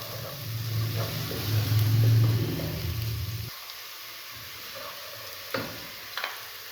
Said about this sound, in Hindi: अब हम इसमें अदरक और लहसुन का पेस्ट ऐड करेंगे। इसे भी अच्छी तरह भूनेंगे।